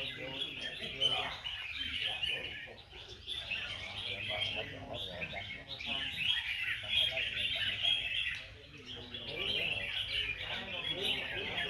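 Red-whiskered bulbuls sing at a songbird competition in Binh Duong, Vietnam, with many birds chirping and warbling steadily at once, bright and busy, while people talk faintly among them.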